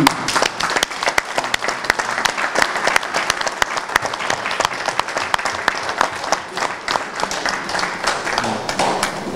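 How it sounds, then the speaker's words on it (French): A crowd applauds at a political rally celebrating Félix Tshisekedi's rise to power, a dense, sustained wash of many hands clapping with sharp individual claps standing out, steady and fairly loud throughout with almost no talk. "que je vous demande d'applaudir."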